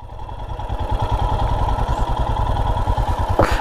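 A motorcycle engine idles close by while the bike is parked near Fusrey Lake in the Kalimpong hills, its rapid, even low thump running loud and steady with no talking.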